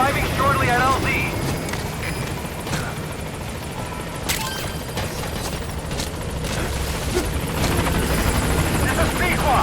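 Helicopter arriving at a landing zone in Metal Gear Solid V, a loud continuous rotor thump and engine roar close by, with radio voices talking over it.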